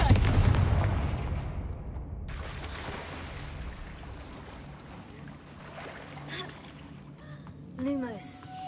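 In Hogwarts Legacy, a Confringo fire spell bursts with a loud blast that trails off into a long rumbling decay, followed by softer magical whooshes and a brief rising tone near the end.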